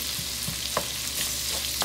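Pre-cooked kielbasa sausage cooks in a pan for shrimp and grits, giving a steady low sizzle with a few soft stirring scrapes and clicks, close and fairly quiet, with no voices.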